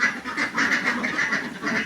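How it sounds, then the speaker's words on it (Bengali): A flock of healthy laying ducks quacks continuously, a dense, close chorus of overlapping nasal calls with a steady rhythm and no talking. "দেখেন হাঁসগুলি কিন্তু একদম সুস্থ সবল হাঁস"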